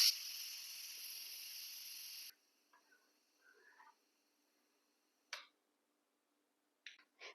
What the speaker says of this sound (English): we're ready to release the rest of that steam.